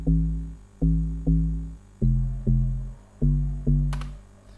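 Synth bass line under chords programmed in LMMS for a remake of a song: repeated sustained synth chord stabs over a low bass, about seven even hits with a short noisy burst near the end, no talking.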